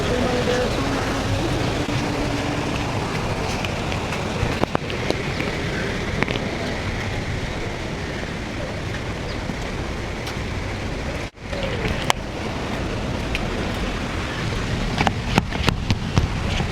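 Steady rain falls outdoors in a continuous dense hiss. A few sharp clicks and drips break through, and there is a brief dip near the end.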